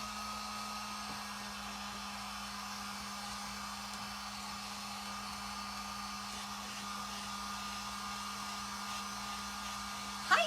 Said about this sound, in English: let me dry this real quick and we'll put it together